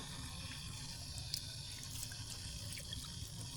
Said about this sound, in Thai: เปิดน้ำ